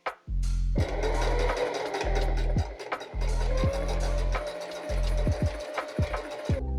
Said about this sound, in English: Okay, now I'm going to top stitch on the lining.